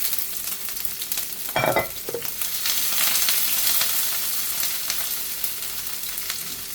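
Pimento peppers, garlic and sausage are dropped into a hot pan and fry with a close, steady sizzle. A soft thump and clatter come early, then the frying runs on alone.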